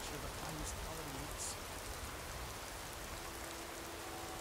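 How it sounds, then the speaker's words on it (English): Steady rain in Skyrim, a soft even hiss of falling drops that runs on without a break, faint and diffuse, with a low background tone beneath it. "Don't you just love the rain?"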